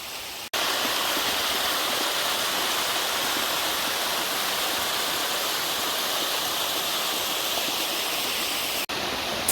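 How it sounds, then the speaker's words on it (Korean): A mountain valley stream rushes along a summer hiking trail, a steady, dense, close wash of flowing water that runs unbroken from start to finish with no voices. "시원한 물소리, 바람소리 등 자연의 소리를 들으며 걷는 산행길이"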